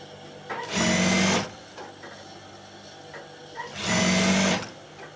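Sewing machine stitching a shoe, two separate loud bursts of steady fast motor-driven stitching, each about a second long, with quiet pauses between them.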